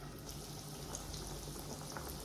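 Steady crackling sizzle of meat pies frying in hot oil, soft and continuous with faint bubbling, no voices.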